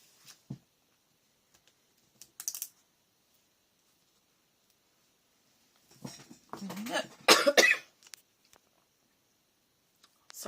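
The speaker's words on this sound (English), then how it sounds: "Sorry, a bit too much of a cough there" A few short coughs sound close by with quiet gaps between them, ending in a louder cluster of rough coughs and throat noises.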